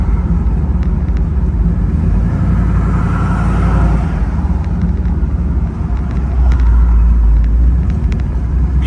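A 1969 Chevrolet Camaro SS X22 on the road, heard from inside as a loud, continuous low engine rumble with road noise, swelling slightly toward the end, with no talking.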